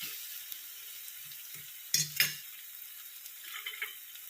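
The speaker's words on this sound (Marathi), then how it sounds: "आता मी त्यात थोडीशी कोथिंबीर टाकते फोडणीत" Fresh coriander dropped into hot tempering oil for Malvani crab masala, a brief loud crackle and sizzle over a faint steady fry, with a few soft utensil clinks around it.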